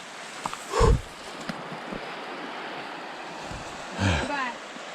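A mountain river swollen and muddy after rain in the western Gorgany forest rushes steadily in the distance, a constant broadband roar with two brief bursts of nearby voices.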